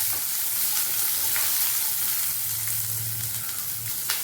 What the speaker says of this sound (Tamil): போட்டு கொஞ்ச நேரம் எல்லாம் நல்லா வதக்கணும்.